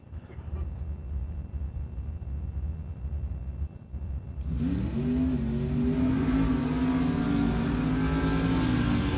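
Drag race cars at Bradenton Motorsports Park in Florida, loud engine roar bursting in after a quieter stretch of low rumble, then a sustained high-revving run that stays close and strong.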